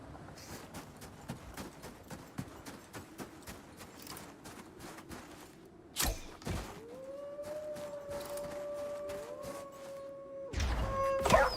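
Puppy howling in the video game Icarus, a drawn-out rising and falling cry that swells near the end, over a backdrop of rapid clicking gunfire-like taps and brief louder bursts.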